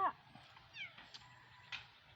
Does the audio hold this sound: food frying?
no